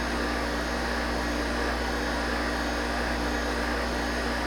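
A freeze dryer's vacuum pump runs while vacuum sealing canning jars, giving a steady, unbroken mechanical whir with a low hum throughout, close and even in level with no talk.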